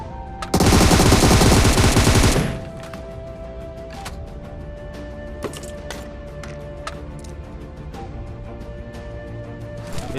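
Rapid automatic gunfire in a battle-royale shooting game bursts loudly for about two seconds, then gives way to quieter scattered in-game clicks and thuds.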